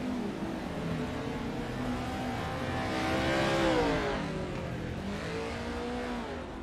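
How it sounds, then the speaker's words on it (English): Race car doing burnouts on a dirt track after a Tuesday night race at Limaland, engine revving hard and rising in pitch to a loud peak, then dropping and climbing again, with continuous gritty roar throughout. "Now let's see if we can do some burnouts here"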